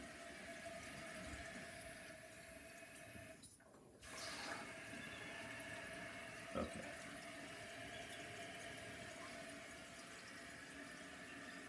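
Water runs steadily into a newly installed toilet tank as the supply is turned on, a continuous filling hiss and trickle heard close, with a brief dip in level and a small clunk partway through.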